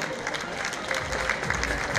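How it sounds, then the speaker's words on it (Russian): An audience claps at an Islamic clothes festival in Kazan, a continuous wash of hand claps from a hall crowd at a fairly loud, even level across the whole two seconds. "Ваши аплодисменты салону магазина национальной одежды «Эбиволь»."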